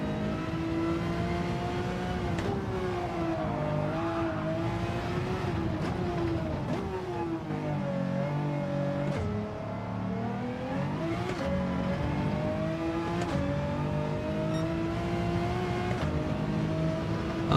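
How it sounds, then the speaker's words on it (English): A six-cylinder twin-turbo car engine drones and revs steadily throughout a time-trial lap, its pitch rising and falling with shifts and throttle changes, loud and continuous with no speech over it. "Mine's a 6-cylinder twin turbo donk."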